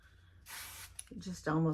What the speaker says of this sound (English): This is just a very lightweight hairspray.